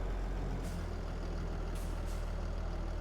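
Tractor engine in a farming simulator game, a steady low diesel rumble running continuously with faint hissing bursts, loud and close with no talk.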